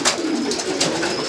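Racing homing pigeons coo at a pigeon breeder's loft: a short run of soft, throaty, rolling calls, close and clear, with no talk over them.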